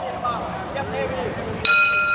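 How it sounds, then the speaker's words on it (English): A boxing bell rings once at Lumpinee Stadium in Bangkok, ending the first round of a Muay Thai bout. A bright metallic clang cuts through a commentator's voice and crowd noise and rings on to the end. "There's a bell to end the first round of action."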